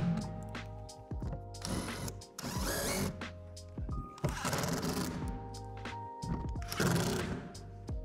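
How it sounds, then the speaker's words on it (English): A power driver sets screws to fasten plastic storage shed panels together, with repeated short whirring bursts and ratcheting clicks in separate runs, close and clear. "Then secure the panels together with the 5 screws."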